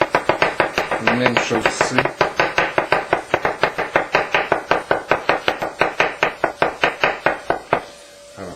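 A knife chops mushrooms for watercress soup on a board in a fast, even series of about forty crisp knocks, close and loud, before stopping near the end; a voice speaks briefly during the chopping.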